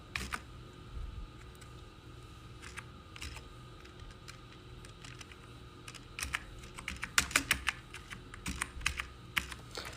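Typing on a computer keyboard while working in Microsoft Word: quiet, steady clicking that grows busier and louder toward the end, with no talk.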